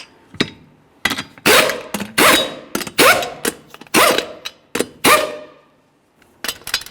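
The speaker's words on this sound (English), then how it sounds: "Let's torque these in a crisscross manner." A torque wrench tightens the wheel lug nuts on a 2012-2018 Nissan Altima with about a dozen sharp, loud metallic clacks. They come close by in an uneven rhythm, each one ringing briefly before the next.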